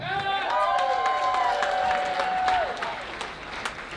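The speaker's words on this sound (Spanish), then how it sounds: "A continuación recibimos con un fuerte aplauso a Chava." Sustained crowd applause fills a quinceañera celebration, many hands clapping at once while a voice or melodic tones drift over the top before fading out.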